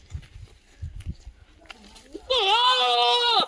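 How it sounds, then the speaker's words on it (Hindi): Several goats at a family home farm: quiet rustling background, then one loud, close, sustained bleat that holds for about a second. "देखो ये सब बकरी हमारी।"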